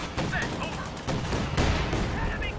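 Time-on-target artillery barrage in Company of Heroes 2, heard as a dense, continuous rumble of distant shell impacts and rolling explosions, steady throughout with little separation between blasts.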